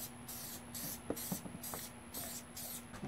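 Aerosol paint sprays in several short bursts onto a riding mower ball mount, a steady hiss repeating roughly every half second with brief clicks of the nozzle, close and fairly quiet, with no talking.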